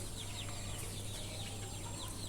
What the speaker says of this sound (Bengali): একদম অরিজিনাল দেশি মুরগির বাচ্চা